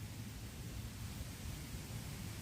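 Faint, steady low rumble of distant thunder as rain approaches, a continuous broadband wash with no distinct claps, heard alone.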